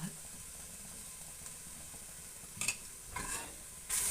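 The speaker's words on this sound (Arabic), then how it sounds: "البرو والبصله والكرافس والمعدنوس كما قلت لكم حتى كيتقلاو مزيان" Leek, onion, celery and parsley frying in butter, a soft steady sizzle with a few scraping stirs near the end, close but quiet.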